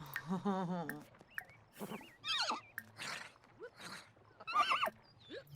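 Horse neighing on a ranch in The Sims video game: a loud whinny opens, followed by several snorts and shorter neighs spread across the stretch, with soft hoof-like sounds between.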